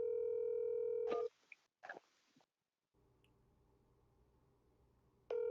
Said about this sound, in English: Let me call this person back because I'm pretty sure it's Sean Bennett.